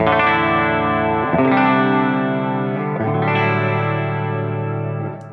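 Sustained electric guitar chords through a pedal board of compressor, chorus, delay and reverb, three strummed changes ringing out with a shimmering, echoing tail.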